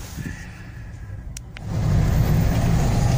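A car's engine idles quietly nearby, a couple of faint clicks sound, then the engine swells into a louder, steady rumble as the car pulls away and keeps driving.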